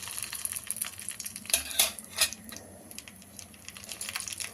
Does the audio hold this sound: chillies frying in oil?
yes